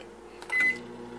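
Microwave oven keypad being set for a timed cook: a brief burst of electronic beeps, one clear tone lasting a fraction of a second, fairly quiet in a room.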